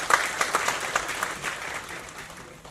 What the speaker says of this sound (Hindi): जोरदार तालियां फॉर प्रिया लता